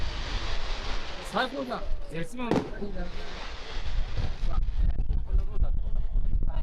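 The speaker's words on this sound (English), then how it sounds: "we get a fireworks show while we're in line" Fireworks show over the World Expo 2025 grounds in Osaka, heard from a crowded queue as a series of booming bursts and crackles amid crowd noise, with voices chatting nearby.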